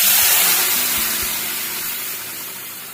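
Dal poured into hot ghee tempered with whole cumin in a pan, a loud broad sizzling hiss that starts strong and gradually fades, with a few soft clinks.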